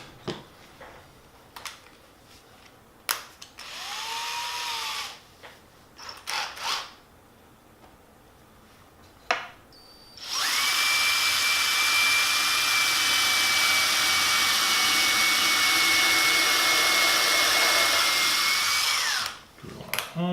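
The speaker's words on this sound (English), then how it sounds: "Drill our hole." A power drill bores a hole in a glued, clamped town scene base, with a loud steady whine of about nine seconds after shorter bursts of handling and brief drill starts.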